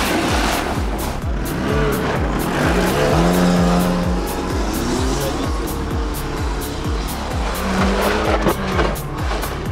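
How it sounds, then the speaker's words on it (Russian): A battered car in a mass car-fighting event, with its gearbox knocking against the engine and a rattling muffler, produces rapid rhythmic clunking over a droning engine, with tire squeals and people talking nearby. "Как будто коробка бьется об мотор, да, вот такой звук"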